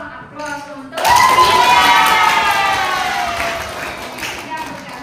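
Applause and cheering burst out in a classroom after a student answers, a loud, dense clatter of clapping that starts suddenly and slowly fades, with a voice speaking over it at the start.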